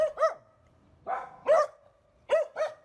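Dogs barking at night in a village in a ghost story, short paired barks in three bursts, clear and moderately close with quiet gaps between.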